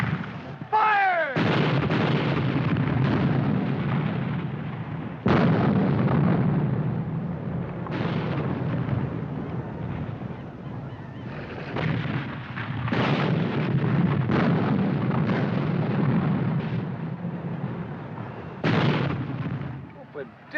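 Artillery fire in a battlefield scene from a 1951 war film, repeated heavy booming blasts rolling one after another over a continuous rumble of battle, with shouted voices and commotion underneath.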